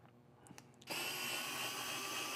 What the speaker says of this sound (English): So got 6 screws to pop off.